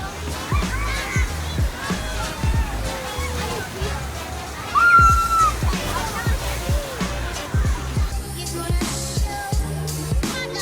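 A mini log flume ride at Adventureland Long Island sloshes and splashes through water, with steady watery churning, a louder surge midway, and people's voices and children's chatter mixed in throughout.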